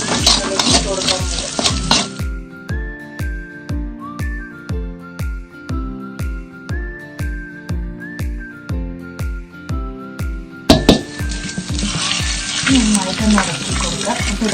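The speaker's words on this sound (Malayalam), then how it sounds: "താളിക്കാനായിട്ട് നമ്മൾ വെളിച്ചെണ്ണ വെച്ചിട്ട് കുറച്ച് കടുക്, ചെറിയ ഉള്ളി, കറിവേപ്പിൻ്റെ ഇലയിട്ട് നന്നായി താളിച്ച് അതിലേക്ക് ഇട്ട് കൊടുക്കുന്നുണ്ട്" Mustard seeds, shallots and curry leaves crackle in hot coconut oil as a tempering for a Kerala-style country chicken curry cooked over a wood fire. Loud sizzling bursts open and close the stretch, over steady rhythmic background music.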